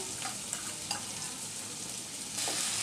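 Onion, chopped green chili and ginger-garlic paste fry in a little oil, giving a steady close sizzle with a few soft stirring scrapes and a louder hiss near the end.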